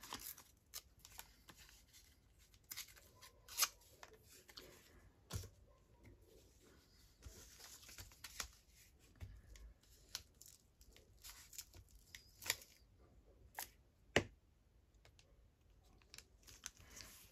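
Paper torn in several short rips while cutting and assembling library card pockets, heard as scattered crisp tearing and crackling bursts, faint and close against a quiet room with no talking.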